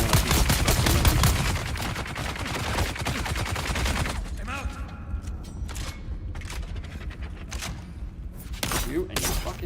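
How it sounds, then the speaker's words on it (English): Enemy minigun fire in Dune: Awakening: rapid, dense bursts of automatic gunfire with mechanical clatter and thuds, loud at first and then choppier, with a voice talking over parts of it. "You and your fucking minigun can fuck right off."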